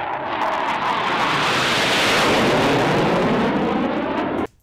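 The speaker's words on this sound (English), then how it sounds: "Take a listen to this jet engine." A loud, broad roaring rush of a jet engine, sustained for several seconds before cutting off abruptly.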